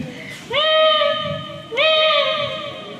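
A schoolchild mimics a cat, giving two drawn-out, wavering meows one after the other, close and fairly loud, with faint room murmur between them.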